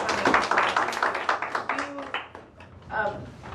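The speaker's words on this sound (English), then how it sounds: "Let's give them a round of applause." Audience at a ward community meeting claps after presentations, a short burst of scattered hand claps that thins out, with a voice speaking partway through.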